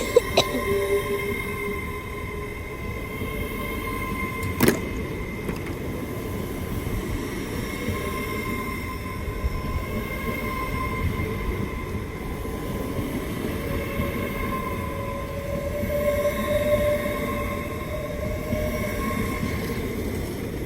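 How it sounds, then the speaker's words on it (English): Train 801215 pulling out of Peterborough station on a London King's Cross to York service, with a steady electric hum and motor whine that rises slowly in pitch, rail noise underneath, a few sharp clunks and no speech. "Departing now is 801215 with her service from London King's Cross to York."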